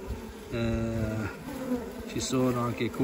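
Honeybees moving around a beehive on a cold day give a steady insect buzz close by, with someone talking over it the whole time.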